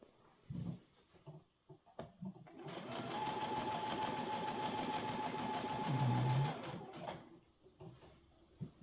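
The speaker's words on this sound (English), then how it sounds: "Be sure to backstitch and sew your seam, keeping it parallel." A sewing machine stitches a seam on a cosplay duster, running steadily for several seconds at close range, with brief handling clicks and rustles before and after the run.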